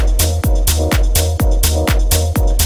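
A dance track playing in FL Studio with the low filter cutoff automated down in the drop, giving heavy pounding kicks with pitch-dropping tails and a dense, bass-focused loop of stabs, loud and continuous with no voices.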